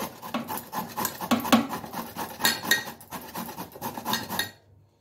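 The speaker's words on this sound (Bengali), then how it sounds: "পেঁপেটাকে এইভাবে আমি গ্রেট করে নেব।" Raw papaya rasped against a metal grater in a kitchen, a steady rhythm of quick scraping strokes, close and fairly loud, continuing for several seconds before stopping abruptly.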